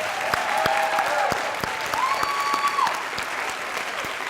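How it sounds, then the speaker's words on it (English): Audience at a teacher of the year reception gives the finalist teachers a round of applause, a steady, fairly close clapping crowd with a few sharper individual claps and a faint tonal voice or whistle over it. "Let's give all of these teachers another round of applause."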